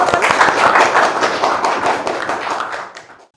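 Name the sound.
audience clapping together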